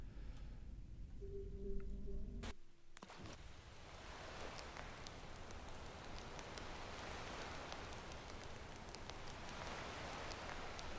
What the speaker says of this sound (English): Listen to that rain, the pitter patter.